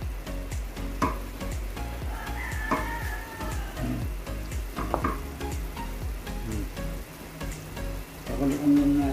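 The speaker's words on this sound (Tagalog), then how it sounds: "Pakuloan lang natin yan guys." Beef, broccoli and carrots bubble and sizzle in a pan, a continuous close crackle broken by utensil clinks and clatters, with no talking.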